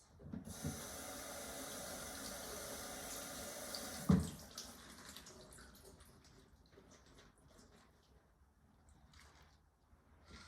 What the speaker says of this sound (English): the first step you want to do is to just wash the lettuce